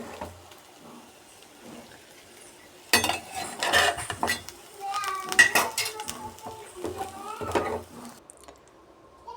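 Cooked kaltappa being moved into a cooking vessel, with clattering metal-pot knocks, scrapes and clinks that start after a quiet stretch and continue in close, uneven bursts.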